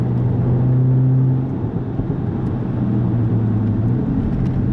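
An Audi S3 8V or Golf R fitted with a VAG Sport turbo elbow, inlet pipe and new air filter drives along a country road. Its engine gives a loud, steady droning whir with a humming tone that eases slightly partway through.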